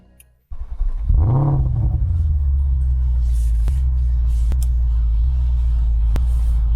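A Mercedes-Benz S-Class W223 engine cranks and starts, revving up briefly before settling into a loud, steady deep idle rumble with a few clicks.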